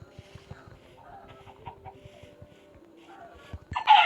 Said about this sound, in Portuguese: Galinha aqui.